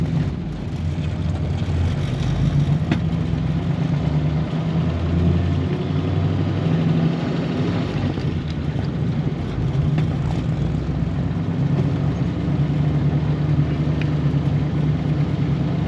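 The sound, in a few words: 1938 Ford Deluxe flathead V8 pulling away in first gear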